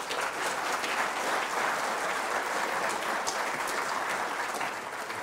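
Steady, dense applause from a lecture-hall audience welcoming lecturer Michael Summerfield to a Darwin Week evening talk, sustained at even loudness throughout with no voices over it.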